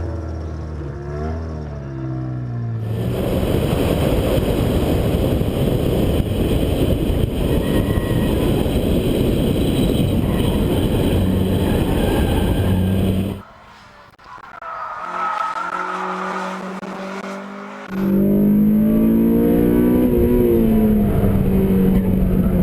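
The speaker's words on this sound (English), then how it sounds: "I went down to Tucson, Muscleman Honda Circuit, got to do a few laps, got some tips from a local hot shoe, Brando" Car lapping the Musselman Honda Circuit in Tucson: a loud, sustained engine roar with tire noise for about ten seconds, a short quieter dip, then the car's drone returns strongly for the final stretch.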